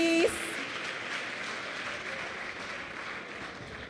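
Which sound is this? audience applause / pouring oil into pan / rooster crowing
audience applause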